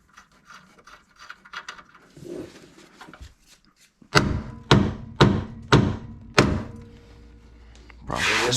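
Hammer blows ring out on the track bar of a Jeep ZJ, five loud metallic strikes in a steady sequence after a stretch of quieter rubbing and scraping, with one more hit at the end.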